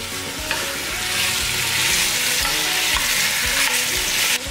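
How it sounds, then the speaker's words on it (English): Chicken and sausage fry in pork drippings in a pot for Cajun jambalaya, a loud continuous sizzle up close with the scrape and clatter of stirring running through it and no talking. "Grab your chicken and your sausage, throw that shit in there. All of it. All of it. Stir it around."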